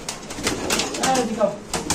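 Two pairs of Maltese pigeons give short low coos close by, mixed with a man's speech.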